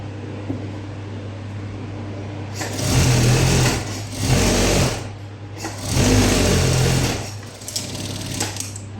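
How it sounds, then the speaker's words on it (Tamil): Sewing machine stitching a folded blouse piece, running in three short bursts of about a second each, close and loud over a steady low hum, with pauses between runs. "இப்போ இதை ஃபோல்ட் பண்ணி ஸ்டிச் பண்ணி முடிச்சாச்சு"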